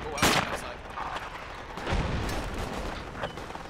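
Mortar rounds fired in a military video game, a sharp near launch thump followed by a second heavier boom about two seconds later, with faint radio chatter in the background.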